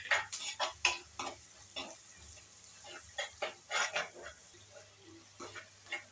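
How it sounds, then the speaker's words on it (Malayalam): Kozhuva fish peera with salt is stirred in a pan, irregular scraping strokes clattering close by over a low sizzle, with brief pauses between bursts. "ഉപ്പ് പൊടി ആഡ് ചെയ്ത് കൊടുക്കാം. നല്ലതുപോലെ ഇളക്കി കൊടുക്കാം."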